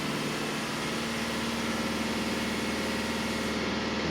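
Car engine held at raised revs near 2,500 RPM, a steady, loud, continuous drone with no talk over it.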